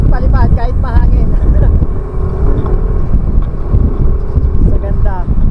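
Gusty wind buffets the microphone with a steady low rumble, while a person talks over it throughout.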